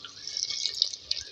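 Water splashing and hissing into a hot handi pot of frying spices for a brief moment, a bright steady pour with small spattering bursts.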